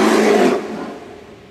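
Deep growling roar of a cave lion in a prehistoric wildlife documentary, loud and close, a single sustained burst that fades out over about a second.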